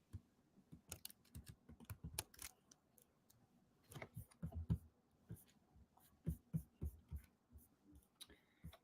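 Someone types HTML on a computer keyboard, producing irregular clusters of sharp, close key clicks with short pauses between bursts, fairly quiet throughout.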